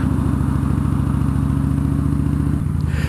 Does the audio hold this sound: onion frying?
no